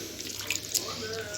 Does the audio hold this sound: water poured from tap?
yes